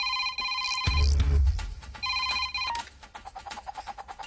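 In a scene from the Telugu film Sainikudu, a telephone ringtone repeats in bright pulses, cut by a sudden heavy thud before the ringing resumes and fades into quieter repeated tones.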